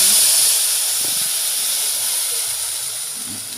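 Water poured into a hot tempering of ajwain, cumin and mustard seeds for a stuffed bitter gourd curry, giving a loud, steady sizzling hiss in the pan that fades slightly as it settles.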